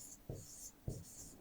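A pen or pencil writes by hand on a workbook page, close scratchy strokes broken by two sharper taps or pen-lifts, heard alone without talking.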